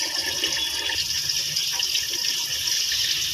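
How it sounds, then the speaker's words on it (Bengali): Kitchen tap running steadily while a cabbage is washed under it, a close, even splashing water stream with slight shifts in tone as the leaves move. "বাঁধাকপিটা সুন্দর করে ধুয়ে নিয়ে"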